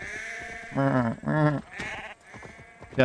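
Sheep bleating in Assassin's Creed Valhalla, two loud drawn-out wavering bleats close together, followed by softer bleats and farm ambience.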